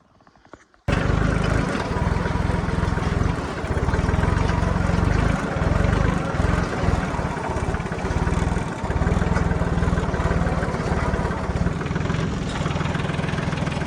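A Swaraj 630 tractor engine starts up and runs in a farm field, a loud, steady diesel rumble that holds close and constant after a brief quiet opening, with no one speaking over it.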